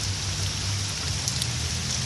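Steady rain pouring outdoors, a dense continuous hiss of drops on surfaces, loud and close, with a low rumble underneath and no talking.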